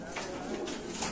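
A Grizzle Mundian pigeon coos softly at close range among other pigeons, with low murmuring calls running through the whole short stretch.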